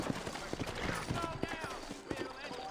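Horse hooves clip-clop in Red Dead Redemption, set in New Austin, a quick steady trotting rhythm mixed with other game sounds and a voice.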